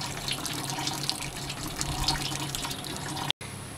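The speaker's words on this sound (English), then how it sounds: "I've never seen just pure water run out of a hydraulic cylinder." Water running out of a hydraulic cylinder during a breakdown, a steady splashing, gushing flow heard up close with no talking, cut by a short dropout near the end.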